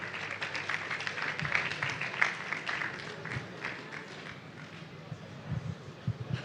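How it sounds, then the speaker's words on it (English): An audience at a data and AI conference gives a modest, scattered round of applause for a speaker taking the stage, uneven claps spread across the room beneath some murmured talk. "A round of applause as it comes up"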